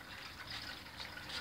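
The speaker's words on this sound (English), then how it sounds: "Okay, now the water comes in" Water pouring from a supply tank into hydroponic pipework, a steady rushing gush that fills the short moment with constant hiss, no voices.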